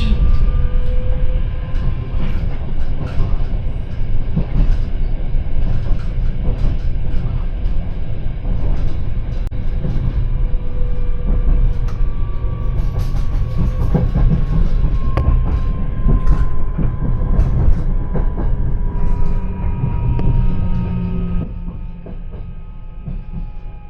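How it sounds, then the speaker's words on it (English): Merseyrail electric train running between Moreton and West Kirby on the Wirral, a steady loud rumble of wheels on rail with rising and falling motor whine throughout, easing slightly near the end. "Train is arriving at Hoylake Station."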